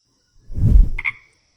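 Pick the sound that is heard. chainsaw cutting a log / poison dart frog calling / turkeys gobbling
poison dart frog calling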